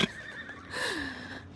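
A horse at a barrel race gives one clear whinny that rises and then falls, moderately close and alone over a faint outdoor background.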